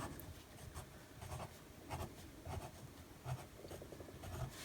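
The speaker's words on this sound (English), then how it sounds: "You could probably hear it scratching on the page." An ink pen scratches across paper in a spiral notebook, close and quiet, in a quick rhythm of short strokes as a word is written out by hand.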